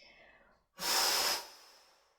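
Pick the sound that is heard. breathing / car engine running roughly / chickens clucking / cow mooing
breathing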